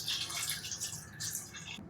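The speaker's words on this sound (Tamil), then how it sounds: "இப்போ நான் தண்ணி ஊற்றியிருக்கேன் பாருங்கள்." Water pours into a pot of mutton curry being cooked, a soft steady splashing trickle that runs for a couple of seconds before stopping abruptly.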